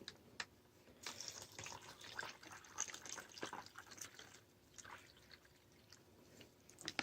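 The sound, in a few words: water poured into MRE drink pouch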